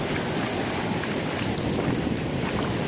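Waves roll and break at a Sydney surf beach in a constant, dense roar of surf mixed with wind buffeting the microphone, with no clear pauses between swells.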